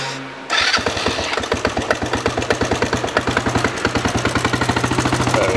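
A cold Chinese motorbike engine with the choke on sputters to life after a brief hush, then settles into a rough, steady idle with a fast, even pulsing beat, loud and close with no voices.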